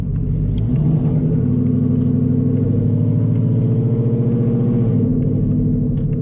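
A Whipple supercharged Ford Mustang GT S650 with its boost turned up, making over 900 hp, holds a loud, close, continuous engine rumble with rhythmic revving pulses and no talking.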